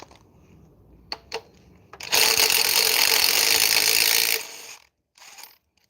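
An impact wrench rattles hard on a bolt during head removal on a 2010 Toyota Matrix with the 2.4 engine, preceded by a few sharp metallic taps, with one loud burst of about two seconds followed by a short second burst.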